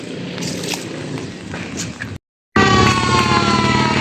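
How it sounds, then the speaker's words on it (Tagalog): A fire truck siren wails loud and close as the truck arrives at a burning Meralco electrical transformer on a street in San Andres Bukid, Manila, following a stretch of rumbling street noise and a brief cut. "andito na yung fire truck"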